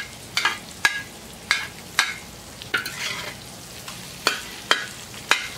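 Eggs fry on a plow disc discada under a steady low sizzle, broken by sharp scrapes and taps of a metal utensil on the disc at irregular intervals.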